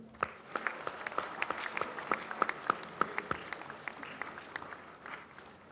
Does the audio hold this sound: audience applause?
yes